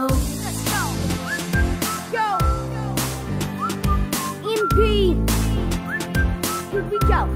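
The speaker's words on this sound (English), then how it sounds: "I just put my lips together when the world's on my shoulders. And I whistle, baby, here I go." A human voice whistles a bright, catchy melody in short rising phrases over a loud pop beat with bass and drums, as part of a cover song.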